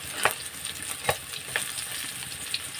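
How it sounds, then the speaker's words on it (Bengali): Fish pieces fry in hot oil until reddish before going into a fish curry, a steady close sizzle broken by a few sharper spatula scrapes and stirs. "মাছগুলো একটু লাল লাল করে ভেজে নেব।"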